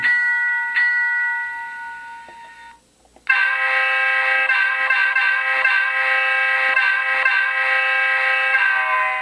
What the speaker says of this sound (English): It's probably the most playable horn, meaning you can press really fast and do a short blast